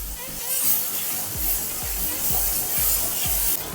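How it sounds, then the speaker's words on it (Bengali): Potato pieces seasoned with turmeric and salt fry in hot oil with a steady, close sizzling hiss, overlaid by a soft recurring low thump every half second or so. "হালকা করে আমি ভেজে নিচ্ছি।"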